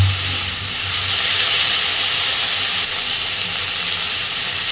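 Steady loud hiss of potatoes and cauliflower frying in a pan, a continuous sizzle with no pauses and no talk.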